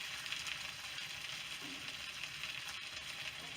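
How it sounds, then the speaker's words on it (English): Steak sizzling in a pot on a new wood stove inside a cabin, a steady soft crackling hiss with faint stirring clinks, quiet and close, no talking. "Give our steak about 5 more minutes and she'd be good."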